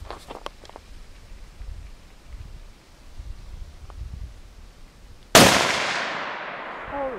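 A single sharp, very loud gunshot fired outdoors in Alaska at a can, hitting after a quiet stretch of faint shuffling and rustle, its blast ringing out and decaying over the final two seconds.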